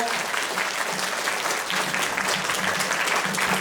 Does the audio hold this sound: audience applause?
yes